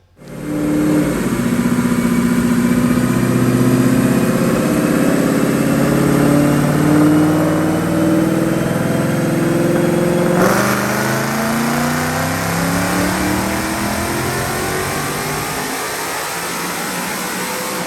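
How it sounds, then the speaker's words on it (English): Automatic 2017 Mustang GT with a VMP Gen 3 supercharger and Kooks headers makes a loud full-throttle dyno pull, its engine note climbing steadily through one gear before a shift, then winding on with supercharger whine and fading at the end. "Check out this dyno pull."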